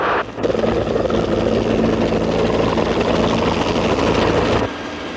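Medical helicopter landing on a hospital rooftop, its rotor and engine roar loud, close and steady for several seconds before cutting down to a lower hum.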